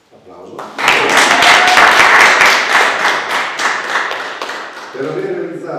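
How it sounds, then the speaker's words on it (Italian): Graduation ceremony audience for a graphic design and visual communication thesis bursts into close, loud applause that rises quickly and fades slowly, with a voice beginning to speak as it dies down. "Applauso."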